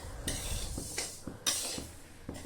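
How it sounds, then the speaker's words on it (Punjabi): Half a kilo of flaxseeds scraped and stirred with a ladle in a kadhai, giving several rhythmic metallic scrapes and clinks that repeat close up, with no talking. "ਅੱਧਾ ਕਿਲੋ ਅਲਸੀ ਹੈ ਜੀ ਜੋ ਮੈਂ ਕੜਾਹੀ ਵਿੱਚ ਪਾ ਲਈ ਹੈ"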